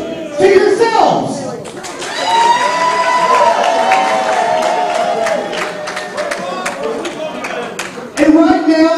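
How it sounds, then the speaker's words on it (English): A large crowd cheers and claps loudly and continuously for several seconds, framed by a voice speaking at the start and end. "I want you to give a big round of applause right now to Dasher Hatfield."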